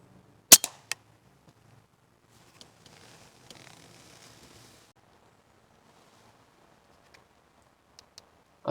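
Air rifle firing a pellet at a squirrel: a sharp close crack followed by a second snap, then quiet woodland with faint rustling and a few scattered distant clicks.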